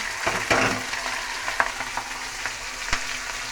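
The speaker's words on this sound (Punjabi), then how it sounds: "ਇਹਦੇ ਵਿੱਚ ਮੈਂ ਪਿਆਜ਼ ਆਦਾ ਤੇ ਲਸਣ ਤੇ ਮਿਰਚਾਂ ਨੇ ਜੀ ਪਾ ਦਿੰਦੀ ਆ" Onion, ginger, garlic and green chilies sizzle in hot oil with toasted cumin for a cabbage and potato dish, a steady close crackle broken by a few sharp clinks of a spoon against the pan.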